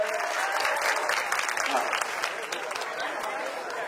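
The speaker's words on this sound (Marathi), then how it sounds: "यांच्यासाठी टाळ्या होऊन जाऊ द्या अगोदर." A college audience claps for students, a moderate, continuous patter of many hands that tapers slightly, with faint crowd voices underneath.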